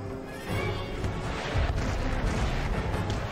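Distant artillery fire rumbles in the video game Empire Total War battle, a steady low booming roar with several heavier thumps, especially around the middle, under continuous battlefield noise.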